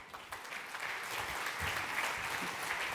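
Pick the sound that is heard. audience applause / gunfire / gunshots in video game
audience applause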